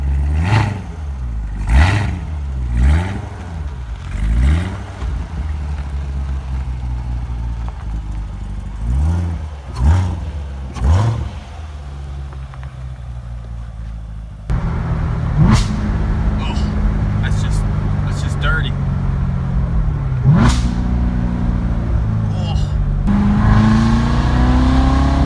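A Corvette Z06, C6 or C7 generation, revving repeatedly in sharp bursts that rise and fall, followed by a longer stretch of sustained loud engine roar with further climbs in pitch, close to the microphone.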